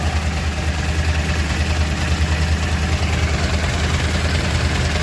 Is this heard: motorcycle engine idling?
yes